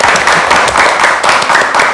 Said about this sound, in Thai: ขอเสียงปรบมืออย่างเกรียวกราวให้3นักแสดงจากวอนเธอครับ